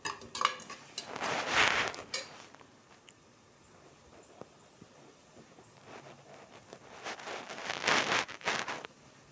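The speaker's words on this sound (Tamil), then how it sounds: "நல்லா வதங்கிட்டு இஞ்சி பூண்டு பேஸ்ட்டை போட்டுக்கிறேன்" Spoon scraping and clinking against a pan as ginger garlic paste is stirred into sautéed onions for chicken biryani, two bursts of busy metallic stirring with quieter kitchen sounds in between.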